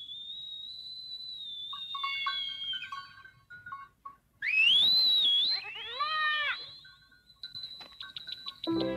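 A girl whistles a series of clear, bright tones, some long and sliding, others short and repeated, rising loud in the middle with a sweeping, warbling phrase before quieter, choppier notes.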